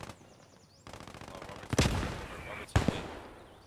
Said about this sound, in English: Good grenade by the Germans.